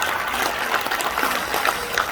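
An audience at a forum claps in thanks, a dense, steady patter of applause throughout.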